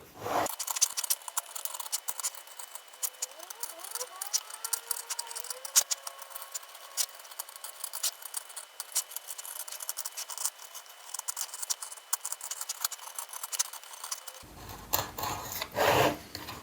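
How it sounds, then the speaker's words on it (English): Close, dry rasping and scraping as thin wood veneer is cut for a wooden ceiling lamp, a continuous rough rubbing texture punctuated by light ticks, ending with a louder burst. "If there is some better way of cutting veneer, please let me know."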